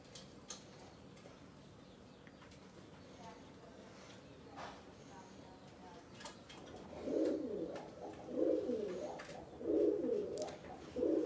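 Oman bloodline pigeons coo in low, throaty bursts that come in the second half, rising over quiet outdoor background with faint ticks and distant sounds.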